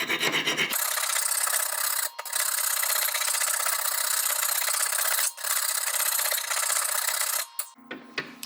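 A flat hand file rasps back and forth around the inside of a part in long, loud, close strokes with brief pauses between passes, ending in a softer scrape.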